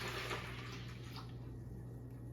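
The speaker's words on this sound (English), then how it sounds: "add the water to your bucket" Water pours steadily into a bucket for making cold process soap, a continuous close splashing rush that fades slightly toward the end, with no talk over it.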